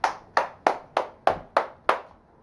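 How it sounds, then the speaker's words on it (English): A small child claps hands seven times in a steady, slightly uneven rhythm, close and fairly soft, with no talking. "You clapping?"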